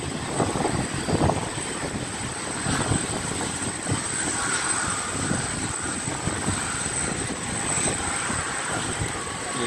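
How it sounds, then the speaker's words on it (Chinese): Airliners taxi at Taipei Taoyuan International Airport, including a China Airlines Boeing 747, a Scoot jet and a Cathay Pacific plane, making a steady broad roar of jet engines heard from a distance, with a faint high whine running through it. "然后跟国泰也滑行。"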